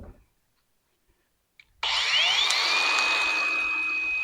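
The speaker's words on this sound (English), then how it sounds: "so when I cut that, I won't let my grinder disc get into the siding" An angle grinder disc bites into a truck topper shell after a near-silent pause, a sudden loud, harsh whine with a rising pitched squeal that holds steady to the end.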